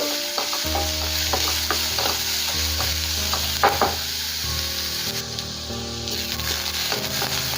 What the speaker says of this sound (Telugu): పచ్చిమిర్చి బాగా ఫ్రై అయిన తర్వాత ఉల్లిపాయలు యాడ్ చేసుకున్నాం అలాగే కరివేపాకు కూడా యాడ్ చేసేసుకొని ఫ్రై చేసుకున్నాము